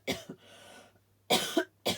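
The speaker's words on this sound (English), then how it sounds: "I need to cough." A person coughs in several sharp, close bursts, a cluster near the start and more hacking coughs later, with a faint hum beneath and quiet pauses between.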